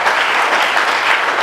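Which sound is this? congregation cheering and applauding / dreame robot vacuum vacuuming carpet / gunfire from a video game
congregation cheering and applauding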